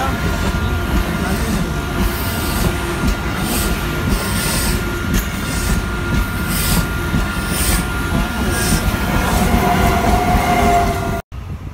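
A Euromed passenger train rumbles through a station with a loud continuous roll and faint wheel squeal, under a station announcement.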